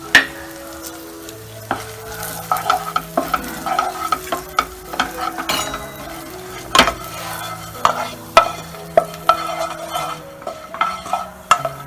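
Cucumber seeds fry in a pan with a soft sizzle while a spoon stirs them, scraping and clinking against the metal in irregular strokes at close range.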